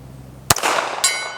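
A Beretta 1934 pistol fires a single sharp shot, followed about half a second later by a bright metallic ring as the round strikes a distant steel silhouette target.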